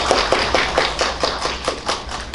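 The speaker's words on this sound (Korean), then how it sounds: "박수 부탁드리겠습니다." Audience applause at an engineering conference presentation on ADAS and autonomous vehicle simulation, heard as a dense, steady patter of claps over a low room rumble.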